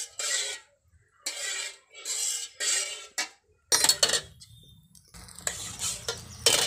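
A spoon scraping and stirring a semolina filling for malai roll pastries in a pan, in repeated rasping strokes separated by short pauses, close up, with no speech.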